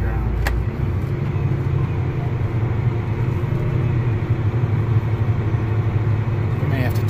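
A machine's engine runs at a steady low rumble during a slow test pass at about speed 5 with an automatic transmission, the implement set in the ground. The drone stays loud and constant throughout.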